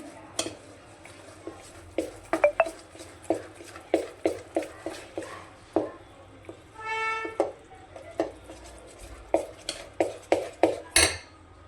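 Cake batter being mixed in a bowl, a spoon or whisk clinking against the sides in a steady rhythm of sharp taps, close and fairly quiet, with a short scraping stir midway.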